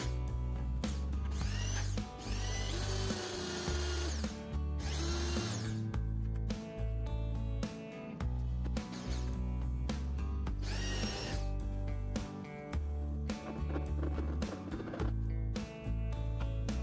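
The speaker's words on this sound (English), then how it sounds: "I drill another hole for drain." A power drill bores a drain hole in a homemade gold concentrator, whining loudly in repeated bursts with brief pauses and rattling, grinding surges close up.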